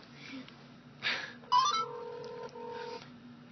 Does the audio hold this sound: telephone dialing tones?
yes